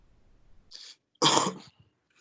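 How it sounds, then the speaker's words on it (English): A single person coughing in a math classroom: a short throat sound followed by one loud, harsh cough, close and otherwise quiet. "No coughing in class."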